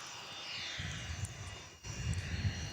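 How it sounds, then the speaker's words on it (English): A Spirit Airlines Airbus A320 coming in to land at Nashville International gives off a sustained jet engine roar, steady and moderately loud, with a brief dip partway before the drone swells again. "Next plane coming in is Spirit and Airbus A3220, flight 222 coming in from Orlando, Spirit Airlines."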